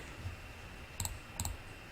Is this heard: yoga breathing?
no